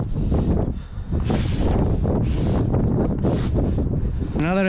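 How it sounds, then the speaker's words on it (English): Gusty wind buffeting the microphone outdoors on a paver patio, a loud continuous roar rising and falling in several surges, with a brief whistling tone right at the end. "It's always breezy here, dude."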